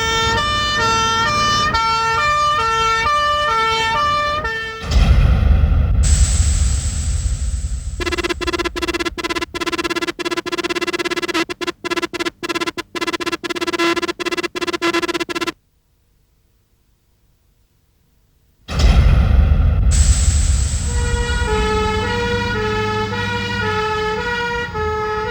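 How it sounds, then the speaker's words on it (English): Fire engine pumps racing with sirens blaring: loud alternating wail-and-yelp tones, a stretch of rapid pulsing yelp, an abrupt few seconds of silence, then the siren returns at full volume over engine rumble. "Two pump engines race"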